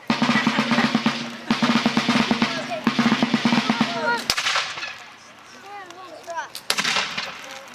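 Revolutionary War reenactors fire musket volleys at an encampment drill, several sharp loud cracks with echoing tails, while a commander barks orders and other voices talk over the scene.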